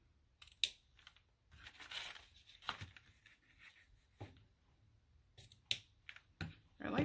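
Scissors snip and trim the ends of a knotted tie of craft ribbon or string, a few sharp, close clicks and cuts scattered between quiet pauses, with soft rustling of the material.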